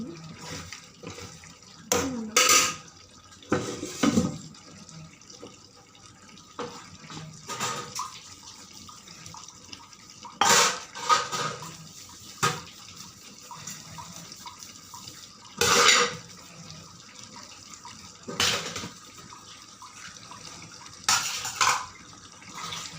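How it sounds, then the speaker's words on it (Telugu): Dishes are washed under a running tap in a home kitchen. Short, fairly quiet bursts of gushing water and splashing come and go at irregular intervals, with soft clinks in between. "గిన్నెలు కడిగేసుకుందాం."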